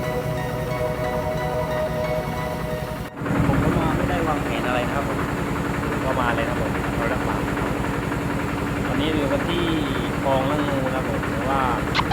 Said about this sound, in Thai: ตอนนี้ก็เรากำลังนั่งเรือนะครับผมเสียงอาจจะดังนิดนึงนะครับ